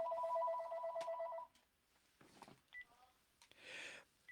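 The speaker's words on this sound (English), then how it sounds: "I hear the phone ringing" A telephone gives a short, loud electronic warbling ring at the start, then cuts off, leaving faint clicks and brief soft noises from the handset being picked up.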